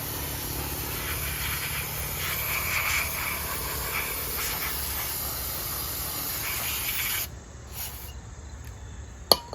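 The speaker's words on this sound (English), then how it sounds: "I'm going to spray it with some contact cleaner, which is getting the grease out" A steady hiss of contact cleaner sprayed from an aerosol can onto a cracked Kohler Courage 20 HP single-cylinder engine runs for several seconds, then stops, followed by faint handling noises and a sharp click.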